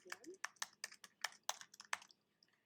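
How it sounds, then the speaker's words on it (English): A name being typed on a computer keyboard: about a dozen quick, close key clicks in an irregular rhythm, thinning out and fading near the end. "I'm going to type my name in again."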